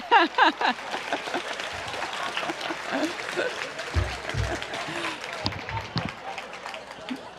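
Assembly audience applauds as Tiller House members stand and bow, a burst of clapping with shuffling and crowd noise, mixed with nearby talk and movement.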